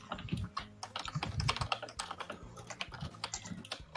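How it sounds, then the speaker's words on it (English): Rapid, uneven keyboard typing clatters up close, keys struck in quick bursts with short pauses, frantic and busy throughout. "I can hear frantic typing coming from Errol."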